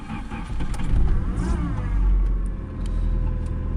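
Turbo Woody Wagon engine cranking and catching on a cold morning, a loud low rumble that surges twice as it fires and settles into a rough idle, close by with no talking.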